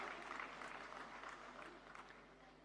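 Applause rolls through an audience at the inaugural session of a yoga conference, a soft, steady patter of many hands clapping that sounds distant and faint and fades slightly toward the end.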